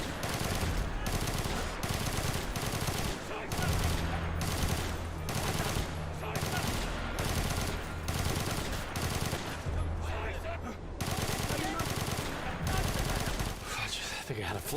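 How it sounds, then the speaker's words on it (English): Gunfire in the WWII real-time strategy game War Mongrels comes as continuous, dense crackling bursts over a busy game soundscape that fills the whole stretch. "rush that machine gun, boys"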